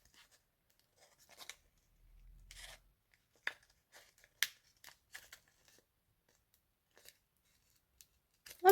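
Scissors snip through paper card in a series of short, crisp cuts at close range, with a few rustles and a low thud partway through; no talking.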